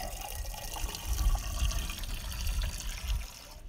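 Freshwater from a DIY off-grid portable system pours into a glass outdoors, a steady splashing fill lasting a few seconds with a faint breeze rumble beneath, then cutting off.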